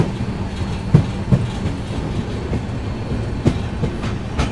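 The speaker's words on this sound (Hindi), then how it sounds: "निकल गई है अपनी श्रमजीवी एक्सप्रेस निहालगढ़ से" Shramjeevi Express passenger train pulling out of Nihalgarh station, a steady close rumble of carriages with rhythmic wheel clicks and clunks over rail joints, no talking.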